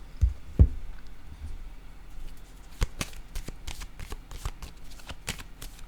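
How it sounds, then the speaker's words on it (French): Tarot cards being handled and laid down on a table, a couple of soft thumps followed by a series of light, crisp card flicks and taps, close and quiet. "Je vais déposer une autre carte."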